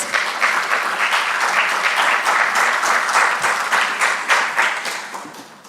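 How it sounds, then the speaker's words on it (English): Conference crowd at a digital transformation panel in Madeira clapping as panelists walk onto the stage: sustained, even applause from many hands that fades slightly at the end. "Please big applause for them while they are joining me on the stage"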